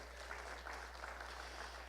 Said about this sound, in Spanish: Denle un aplauso a Cristo Jesús.